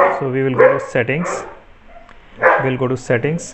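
Dogs barking in short bursts in another room, while someone talks over them close to the microphone and explains computer settings.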